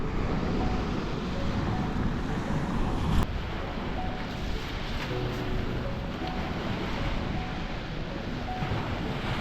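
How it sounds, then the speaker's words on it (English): Strong wind blows steadily across a seaside beach at Reculver, a loud constant roar filling the whole stretch, with surf beneath it and no talking. "This wind that's coming across from west to east"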